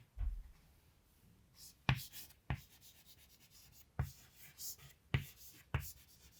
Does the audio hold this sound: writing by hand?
yes